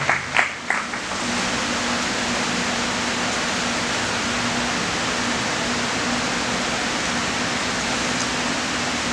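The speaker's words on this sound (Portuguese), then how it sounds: "Vossos aplausos, por favor, vossos aplausos." Sustained applause from a crowd, steady and dense throughout, with a few louder claps at the very start.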